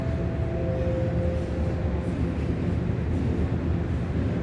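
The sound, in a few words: Toronto subway trains rumbling overhead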